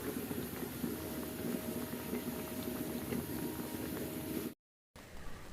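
A thick lentil dal with bottle gourd and naga chili bubbles steadily in a pot, a loud, continuous close boiling burble that cuts out abruptly near the end and then resumes faintly.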